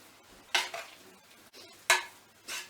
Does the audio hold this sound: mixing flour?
yes